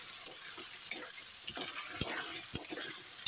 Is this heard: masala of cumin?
yes